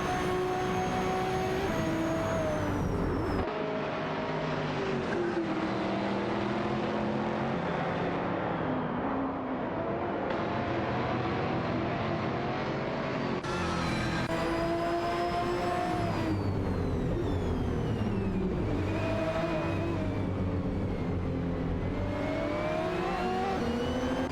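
GT3 race cars in a racing video game, including an Aston Martin DBS9 and a Lamborghini Gallardo GT3, roar continuously up close, engines rising and falling in pitch through gear changes as they battle for position.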